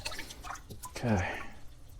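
Water drains and drips from an opened Fluval 307 aquarium canister filter during cleaning, a brief wet trickle and splash rising midway through, with faint background noise around it.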